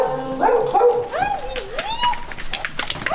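A little puppy yips and whimpers in high, rising and falling squeals, close by and fairly loud, with a few short bark-like yelps mixed in.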